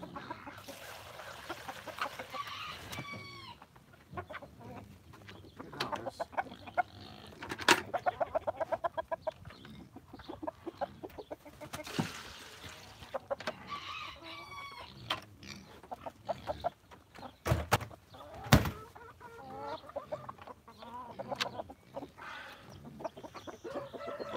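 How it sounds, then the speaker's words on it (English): Several chickens cluck and squawk nearby, with bursts of calling and occasional crowing, irregular and busy throughout. "These chickens, get off my milk."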